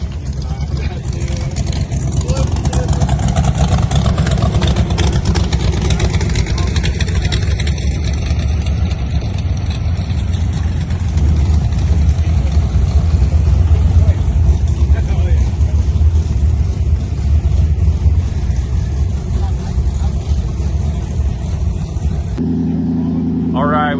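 A Ford F-150 with a check engine light problem pulls back onto the road during a drive day, its engine giving a steady, loud drone and road roar under ongoing talk before cutting off abruptly near the end.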